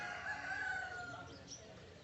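A rooster crows, a drawn-out call that stays steady and fairly loud for about two seconds.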